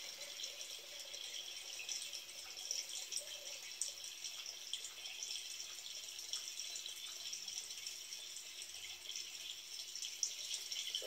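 Water trickles and splashes steadily as it fills a home-built aquaponics grow bed rising toward a standpipe, a faint, even flow running without a break.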